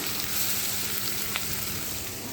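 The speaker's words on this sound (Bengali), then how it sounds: "মাছগুলা ভুনা করব কত তেল দিয়ে" Pabda fish fry in oil, giving a steady, dense sizzle that holds evenly throughout with a faint clink partway in.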